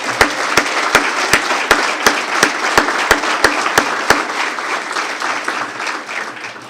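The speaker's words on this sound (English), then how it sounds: "Let's give a round of applause." Audience applause at a city State of the City address, broad steady clapping with a few loud, evenly spaced sharp claps standing out near the front before it tapers off.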